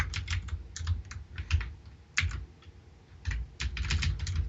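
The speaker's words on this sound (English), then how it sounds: "My keyboard's kind of loud." Loud computer keyboard typing during a Dota 2 coaching session, with rapid clattering keystrokes in uneven bursts close up, alone over a low background hum.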